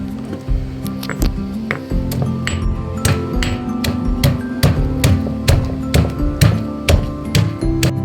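Small sambar onions and ginger are pounded while preparing a meatless fish-style curry, giving a series of close, dull thumps and squishy knocks in an irregular rhythm, with faint clinks between hits.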